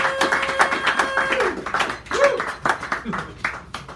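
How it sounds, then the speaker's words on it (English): A small cafe audience at a poetry reading claps for a poet, a light scattered round of applause with a voice speaking over it. "Give him a round of applause."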